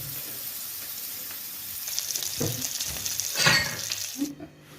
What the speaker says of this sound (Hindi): इसी साइज़ के आप कबाब बना के इन्हें फ्राई करते रहें